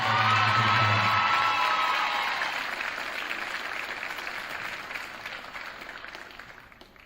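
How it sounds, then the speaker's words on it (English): An audience applauds and cheers at a school winter sports awards ceremony. A whoop rises over the clapping at first, then the applause fades out over several seconds. "So a round of applause."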